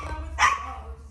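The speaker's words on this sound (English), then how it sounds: "Can you please stop barking at me?" A sick rescue puppy at a shelter gives a single sharp, close bark midway, with quiet room tone before and after.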